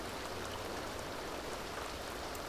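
Rain in the video game The Sims 2, a dense steady hiss of falling drops with no breaks, moderately quiet and heard alone.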